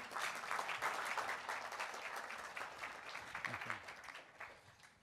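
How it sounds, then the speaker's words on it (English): An audience at a university lecture gives a round of applause for an invited speaker, a steady wash of clapping at moderate level that holds for several seconds and thins slightly toward the end. "How about a round of applause for David Alexander?"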